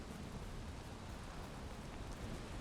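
Steady rain falls in the video game Valheim, a soft, continuous hiss heard faintly and alone, without speech.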